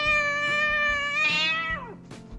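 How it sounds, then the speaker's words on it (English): A cat meows in several drawn-out, tonal cries, clear and close, rising and falling in pitch with no talking. "C for cat."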